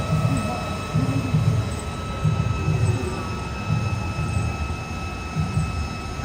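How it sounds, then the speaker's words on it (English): Train passing in Tokyo at evening, a rumbling rhythmic rattle of wheels over rail joints, moderately distant and continuous, with faint steady background tones and no clear talk. "Oh, but there's a train."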